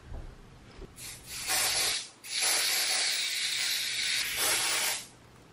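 Several close bursts of aerosol spray misted onto a lace wig front laid on skin, each a sharp hiss lasting about a second or more, with brief pauses between them and no talking.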